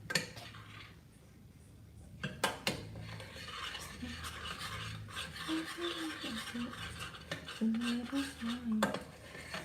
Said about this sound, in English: I'm having to scrape the sides continuously, otherwise the chocolate could burn onto the bottom